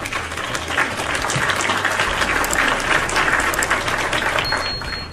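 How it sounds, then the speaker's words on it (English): A round of applause plays steadily for about five seconds, dense and even like a canned or crowd clapping effect, with no speech over it. "Both of you get a round of applause."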